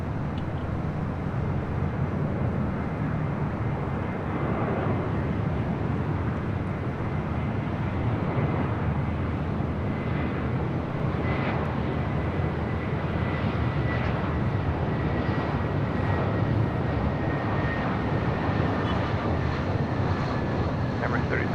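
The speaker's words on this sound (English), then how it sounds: "this is Emirates Flight 216 Super taking off to Dubai on the A380" An Emirates Airbus A380 roars down the runway on takeoff from LAX, a loud, sustained broadband jet rumble that stays strong throughout, with a voice speaking over it.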